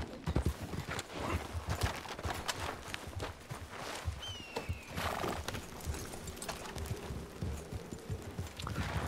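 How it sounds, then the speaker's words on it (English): Horse hooves clip-clopping in a steady walking rhythm close by, with a high whinny partway through and the animal's snorts, fairly quiet overall. "Oh, is that your horse?"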